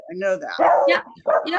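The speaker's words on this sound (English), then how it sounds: "Sorry about the dog." A dog barks a few times in the background, loud enough to come through while two people talk over it.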